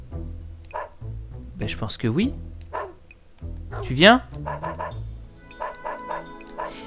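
A cartoonish dog in the video game Dog's Life barks and yips in several sharp, whining bursts, with people talking over it.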